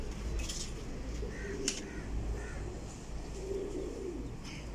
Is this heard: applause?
no